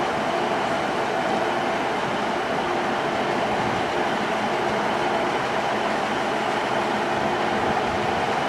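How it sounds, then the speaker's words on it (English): An Arriva Trains Wales unit, 150-279, pulls away from a platform at Crewe station with a loud steady rumble and rolling wheel noise throughout, close by and without voices. "Train now departing platform 9, 1523, Arriva Trains Wales Service to Chester"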